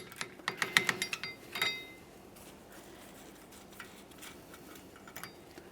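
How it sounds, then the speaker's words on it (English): A ratchet quickly clicking as an 8mm mounting bolt is backed out of the parking brake bracket on a 1999-2006 Chevrolet Silverado 1500, a close run of metallic ticks over about two seconds, then faint clinks. "Go ahead and remove that mounting bolt, remove the mounting bracket"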